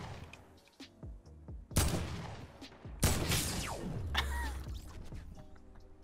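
Legendary heavy assault rifle from Fortnite firing a few heavy, widely spaced shots, moderately loud against quiet surroundings, with a ringing tail after one of them.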